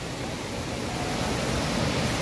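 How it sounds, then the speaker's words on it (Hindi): A waterfall near Rishikesh gives off a close, steady, dense rush of falling water that fills the whole clip without a break. "पहला झरना गाइस ये रहा"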